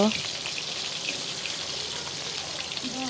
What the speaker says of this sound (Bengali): দেখো এখানে পটল আলু ভাজার জন্য বসিয়ে দিল।